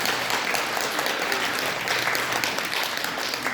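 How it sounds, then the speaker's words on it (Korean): A Catholic congregation at a parish prayer meeting claps together in a full, continuous burst of applause, many hands blending into a steady roar that holds evenly throughout without speech. "그때 좀 박수 좀 나오고."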